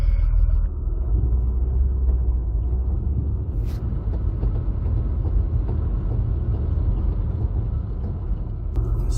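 A Lancia Stratos replica on a test drive, heard as a steady low engine and road rumble from inside the car, continuous and fairly loud throughout with no talking.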